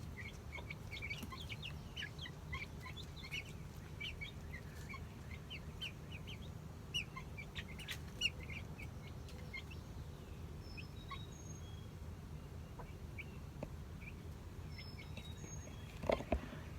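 Wyandotte and Buff Orpington chicks peep and chirp steadily together, a dense cluster of small high calls over a low background hum, with a few louder bumps near the end.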